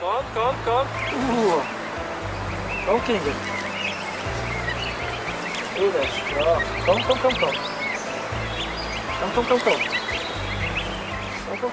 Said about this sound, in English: Swiss zoologist Gyula is rearing a flock of 10 geese